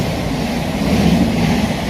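A train runs past a station on the Brighton Main Line, a loud, steady low rumble and roar of wheels with a broad hiss, close and continuous with no voices.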